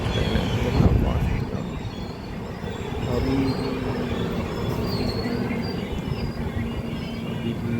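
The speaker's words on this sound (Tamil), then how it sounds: "ஆனால் இந்த ட்ரெயின் பார்த்தீங்கன்னா லோக்கல் ட்ரெயின் இல்லை, ஃபாஸ்ட் ட்ரெயின்." A fast train in India running through a station without stopping, a loud sustained rolling roar of carriages with wheels squealing against the rails, close by.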